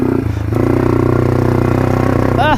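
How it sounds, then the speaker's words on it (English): Dual-sport motorcycle held at full throttle in second gear on a dusty dirt trail: a loud, close, steady engine drone with a rapid pulsing beat, and a brief clatter near the start. "this is full throttle, second gear"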